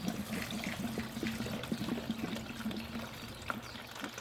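Glycol-based coolant drains from a Suzuki M109R Boulevard motorcycle engine in a steady, faint trickle and splash that runs continuously for a few seconds.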